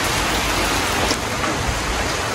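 Heavy rain pouring down steadily, a loud dense hiss of drops on surfaces with no voices.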